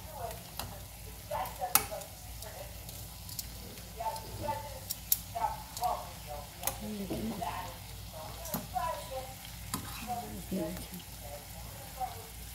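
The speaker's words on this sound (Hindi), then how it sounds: "ये देखिए, दूसरी तरफ से थोड़े से फ्राई करने हैं।" An omelette with tomato sizzles in a pan after being flipped, a soft steady frying hiss dotted with small pops and ticks, while a person talks intermittently over it.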